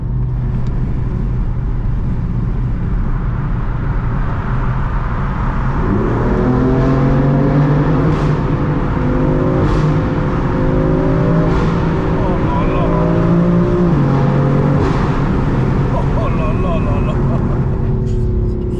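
A tuned BMW M4 engine making 540 hp drones steadily in a tunnel, then revs up with rising harmonic pitch sweeps, loud and echoing, with people talking over it.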